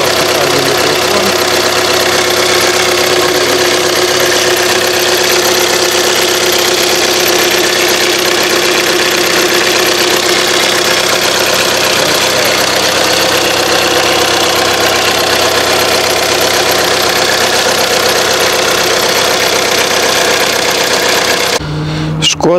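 A 2017 Skoda Fabia with a 1.0 petrol engine idles on a winter day with 102,000 km on the clock, giving a steady, close, even hum with a slight ticking texture that cuts off abruptly near the end.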